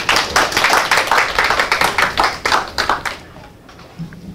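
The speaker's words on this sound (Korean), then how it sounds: "김경지 강사님을 큰 박수로 환영해 주시기 바랍니다." An audience at a lecture gives a welcoming round of applause, a loud, close patter of many clapping hands with rhythmic pulses that stops abruptly after about three seconds, leaving quiet room tone.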